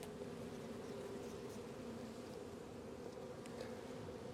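Honey bees buzz steadily at an open hive during a hive inspection, making a faint, continuous droning hum with occasional louder passes of individual bees.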